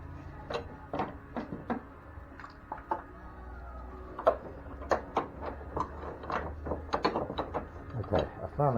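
Snugging motor mount bolts on a 2008 Nissan Altima, a faint series of quick ratchet clicks and metallic ticks, uneven in rhythm, close under low background noise.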